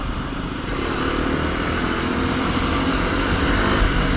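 A Bajaj Dominar 250 motorcycle rides off during a group ride, its engine a loud, steady, continuous drone that builds slightly and holds, with no one talking.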